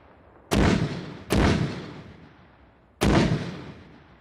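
Three loud, booming gunfire blasts in a combat game with zone-triggered firing, each a sharp burst with a long decaying rumble, the third after a longer pause.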